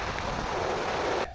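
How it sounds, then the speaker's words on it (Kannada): Steady rain falling beside a village stream, a dense, even hiss of water filling the whole clip at close range before cutting off abruptly near the end. "ಮಳೆ ಬರ್ತಿದೆ."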